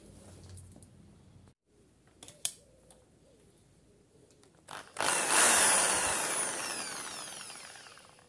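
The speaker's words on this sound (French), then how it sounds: "soit d'une brosse comme ça à mettre sur une perceuse" A wire brush on a corded drill grinds loudly against a rusty tractor plate after a few quieter knocks and handling clicks, the whirring scrape surging up and then tapering as it runs.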